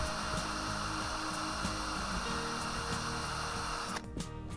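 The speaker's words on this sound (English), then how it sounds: "just starting to drill out the rivets. Just using a small drill to start with." A small power drill with a 2.5mm bit whirs steadily up close, its motor pitch wavering as it drills out rivets on a Corgi Citroen DS 19 model car, then winding down near the end.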